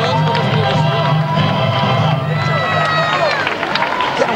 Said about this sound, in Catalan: Continuen aplaudint.